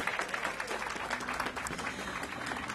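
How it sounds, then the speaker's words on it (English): Audience applause for council member Yvette Alexander at a marketplace groundbreaking ceremony, a steady, dense wash of clapping sustained from start to finish at moderate distance, with no voices over it. "Yvette Alexander, give her a big round of applause."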